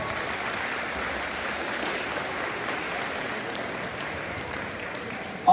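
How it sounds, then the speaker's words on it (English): Students at a high school assembly in the Auburndale High School gym applaud a classmate, a steady, even wash of many hands clapping at moderate volume, with a brief louder knock at the very end. "Let's give her a round of applause."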